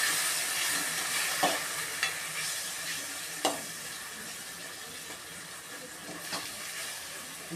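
Tamarind water boils in a tempering pan for a mandakki oggarane (puffed rice seasoning), giving a steady bubbling hiss with a few soft clicks of stirring, close and alone, no talk.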